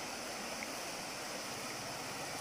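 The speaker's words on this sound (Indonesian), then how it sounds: "Ini sungai dia, teman-teman." Soft, continuous rush of a clear, cold river flowing nearby, an even broadband wash with no voices or other sounds over it.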